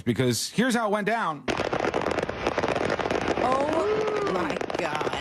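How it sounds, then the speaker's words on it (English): Dense crackling bursts of fireworks set off from the payload of a pickup truck after a road accident, popping and banging continuously for several seconds, with a startled voice at the start and whistling rockets rising midway. "That's a lot of fireworks going off."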